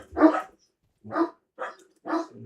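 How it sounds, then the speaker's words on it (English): A dog in the game Lost Skies barks four times in quick succession, short sharp woofs with brief gaps, fairly close and clear with no talk over them. "Seems like the dog's here"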